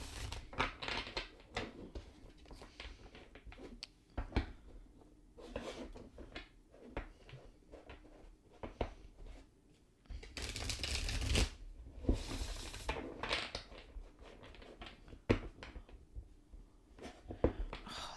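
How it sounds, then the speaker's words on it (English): Tarot card deck shuffled by hand in repeated riffling bursts, close and crisp, with louder flurries partway through and no talking. "this deck likes to shuffle"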